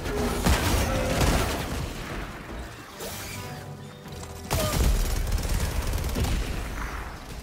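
Automated turret in Helldivers 2 firing in rapid bursts, loud cracking gunfire with crashing impacts and booms, pausing briefly midway before resuming.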